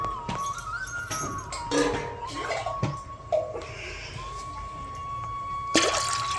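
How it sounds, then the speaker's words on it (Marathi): Water pours and splashes into a cooking pot from a copper vessel, with sloshing and dripping over a steady background hum and a few clatters. "आता पाणी टाकलं तांबं आता भाताला बरंच पाणी लागतं"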